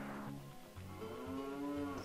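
A cow standing in for the horse Epona in a Zelda: Ocarina of Time Randomizer video game gives a drawn-out moo, a low sustained call that bends upward, clear and alone with no talking.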